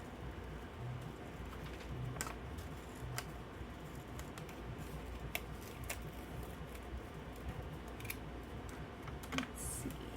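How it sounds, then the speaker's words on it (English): Scissors snip away the excess edge of a sticker for a planner collage, a few faint, sparse cuts over a quiet room background, with no talking. "So I'm gonna cut the excess like this."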